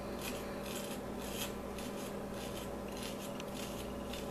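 A hollow panoramic sugar egg is scraped out from inside with quick, rhythmic rasping strokes, faint and close, with a dry gritty texture and no voices.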